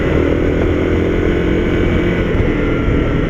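Honda CRF250L motorcycle engine droning steadily and loudly throughout while riding, a continuous rumbling tone with no pauses.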